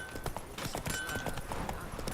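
Horse hooves galloping in the Witcher 3 video game, a quick rhythmic clip-clop of hoofbeats, fairly close and continuous over the short stretch.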